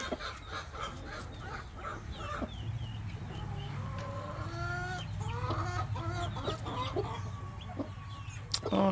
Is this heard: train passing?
no